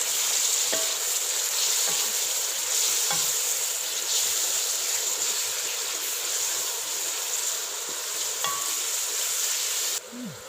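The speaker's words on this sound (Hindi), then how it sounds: "अब इसको तकरीबन 6 से 7 मिनट के लिए अच्छी तरह भून लेंगे।" Half a kilo of minced beef frying with onions in a pan, a continuous close sizzle and hiss with occasional scrapes and clinks of stirring.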